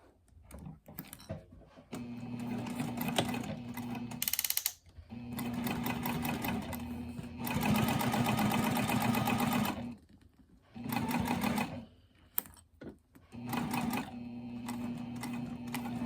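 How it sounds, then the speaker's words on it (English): A sewing machine stitches across the folded edge of bias tape on a glasses pouch, its rapid mechanical whir coming in several close bursts of varying length separated by short quiet pauses. "I'm going to go to my machine and I'm going to stitch across this folded edge."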